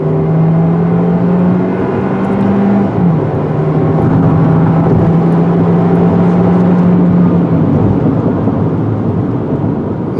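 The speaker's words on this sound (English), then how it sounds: "Let's do a 0 to 60 run." A 2020 Jeep Renegade Trailhawk with a turbocharged engine accelerates hard from a standstill toward 60 mph, its loud engine drone climbing in pitch, dipping at a gear change, then rising again amid heavy road and wind roar, with no voices.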